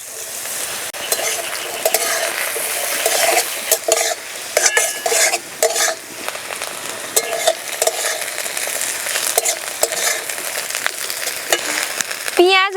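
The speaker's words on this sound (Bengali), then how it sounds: "পেঁয়াজ রসুন কাঁচা লঙ্কা ভালো করে ভেজে নেব" Chopped onion, garlic and green chili fry in a little hot oil, a constant loud sizzle broken by repeated scraping and stirring of a spatula against the pan, with no talking.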